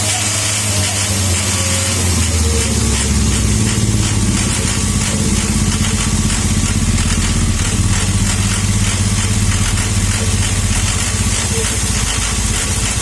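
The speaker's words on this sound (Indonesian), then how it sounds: "Itu suaranya motor anak buahku." A motorcycle engine runs continuously nearby, a loud steady rumble that slightly shifts in pitch near the start.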